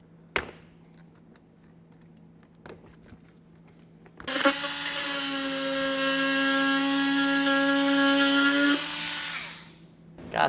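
An oscillating multi-tool cuts a thin plastic panel while fitting a Curt trailer hitch receiver to a 2023 Ford Maverick: a steady, high buzzing whine runs for about four seconds after a few soft taps, then cuts off.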